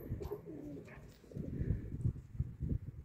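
Soft low cooing from a nearby bird, a few muffled repeated coos with some rustling and background noise.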